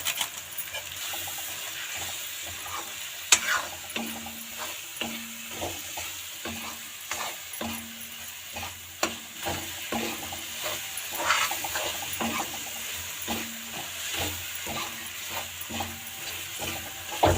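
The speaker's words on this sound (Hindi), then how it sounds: "मसाले भी हल्के हल्के भून गए हैं।" Spices, including Maggi masala, fry in a pan for a white chickpea and potato dish, a continuous soft sizzle under repeated scraping stirs and light clinks at an uneven rhythm, close up, with no one talking.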